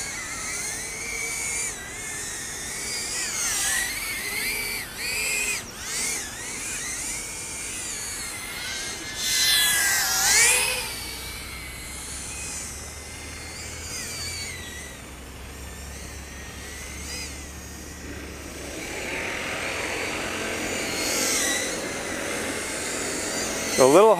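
GoFLY Falcon C90 micro FPV drone in flight doing flips, a thin high whine whose pitch swoops as it maneuvers, moderately close, with talking over it.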